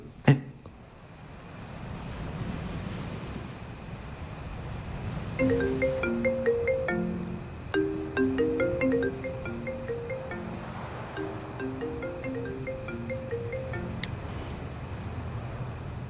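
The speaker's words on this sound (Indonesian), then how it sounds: "Handphone kamu bunyi tadi." A mobile phone ringtone plays a repeating melodic tune of short electronic notes, faint and somewhat distant, over outdoor wind and rustling background noise, with no speech.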